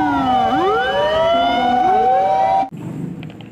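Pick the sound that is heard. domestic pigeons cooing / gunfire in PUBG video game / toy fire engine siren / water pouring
toy fire engine siren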